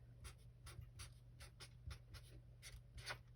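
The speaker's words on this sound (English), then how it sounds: "I'll go ahead and write that now" Pen handwriting in all capitals on paper: a run of short, close scratchy strokes in an uneven rhythm, with a low steady hum underneath and no talking.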